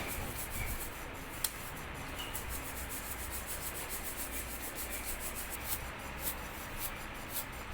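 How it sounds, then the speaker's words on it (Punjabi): Ground wheat for dalia is sifted through a sieve in a home kitchen. The grains give a faint, continuous gritty rustle and rub with a few soft taps, and nobody speaks. "ਪੀਸਣ ਤੋਂ ਬਾਅਦ ਇਹਨੂੰ ਆਪਾਂ ਸਾਣ ਲਿਆ ਜੀ ਸਾਣਣੀ ਨਾਲ"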